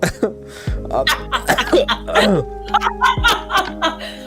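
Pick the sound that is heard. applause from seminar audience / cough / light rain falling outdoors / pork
cough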